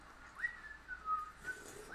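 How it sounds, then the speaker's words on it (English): During a tabletop role-playing game session, a person whistles a soft, wavering tune of a few sliding notes, fairly faint and alone over low room hiss. "Oh no, I was just whistling."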